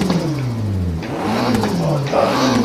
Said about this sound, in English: what you're going to do is rev all the way up